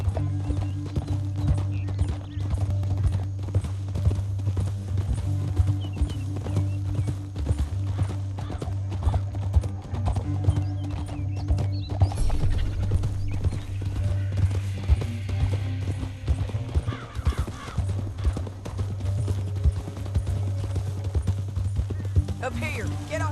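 Steady clip-clop of horse hooves at a gallop in Red Dead Redemption 2, fairly loud and continuous, with music and a brief whinny mixed in.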